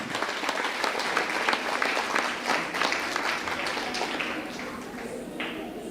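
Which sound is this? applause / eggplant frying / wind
applause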